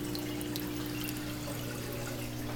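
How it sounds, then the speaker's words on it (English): Button drippers in a DIY fishroom drip water change system, fed at about one gallon per hour, give a steady, close trickle of dripping water over a constant low hum, with no talking. "These are all button drippers and they're working really good"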